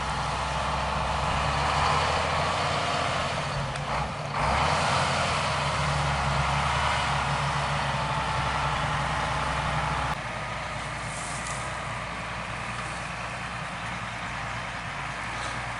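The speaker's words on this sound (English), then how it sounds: "Greg's going to come down here and cross the wetland zone buffer and the wetland itself with this dump truck that is completely full." Fully loaded dump truck crossing a wetland buffer and wetland, a steady low engine rumble that stays loud for about ten seconds, then drops to a softer, continuing drone.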